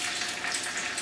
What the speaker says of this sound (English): I will start by browning my chicken very well. I'm going to put its skin down.